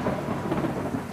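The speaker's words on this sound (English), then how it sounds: "So right now you're just seeing a storm." A thunderstorm rumbles with heavy, dense rain, a loud, continuous low roar of thunder blending with steady downpour throughout the brief moment.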